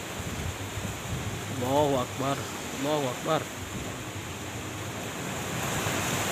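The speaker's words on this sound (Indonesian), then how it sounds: "Sampai bergemuruh yang namanya angin." Strong roaring wind during a tornado-like storm with heavy rain in Sukabumi, West Java, a steady broad rush filling the whole stretch while a man calls out over it.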